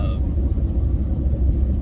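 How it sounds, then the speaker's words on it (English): A truck driving while pulling a trailer, a loud, steady low engine and road rumble heard from inside the cab, with no clear talk over it. "I'm in the truck, and I have the trailer that I'm pulling right now."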